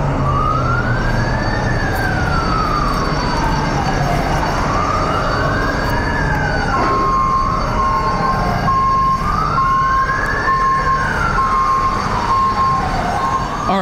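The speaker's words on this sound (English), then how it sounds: "You can hear the alarm bells going off." Emergency vehicle sirens wail in a loud, continuous rising-and-falling pattern during a high-speed police pursuit, with a second steady alarm tone joining partway through, dominating the scene without talk.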